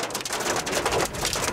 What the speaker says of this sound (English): We're out in a hailstorm now like you have never seen.